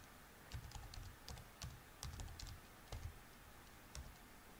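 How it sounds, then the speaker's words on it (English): Typing on a computer keyboard during Nordic nRF5340 DK software setup: quiet, close keystrokes in short irregular bursts over a steady low background hum, with no voices. "let's type in"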